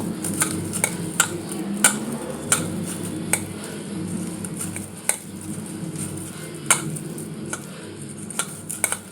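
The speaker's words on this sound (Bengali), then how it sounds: "এগুলো দিয়ে এখন আমি ভালো করে প্রথমে মিশিয়ে নেব" A spoon stirs and mixes sabudana pakora ingredients with chopped green chillies and tomato in a metal bowl, with repeated sharp clinks and taps against the rim over a low scraping bed, close by, with no talking.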